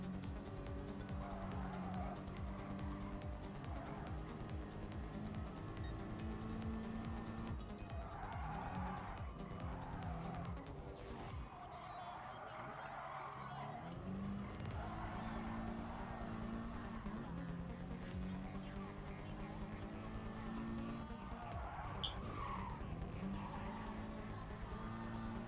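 Race cars in Gran Turismo Sport skid through corners with repeated tire squeals over droning engine notes, the pack's sound swelling and fading as cars dive alongside in a close battle.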